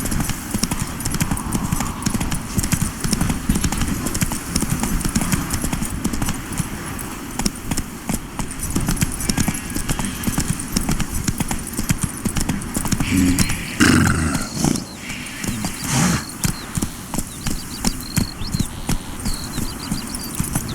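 A horse gallops in The Witcher 3 video game, with rapid rhythmic clip-clop hoofbeats running continuously and loud throughout, with a faint whinny partway through.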